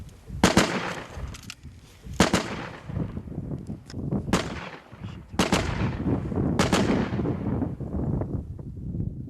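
Gunfire exchanged with Russian troops near Kharkiv: several loud, sharp shots with long echoing tails rolling across open ground, separated by a few seconds, over rumbling wind.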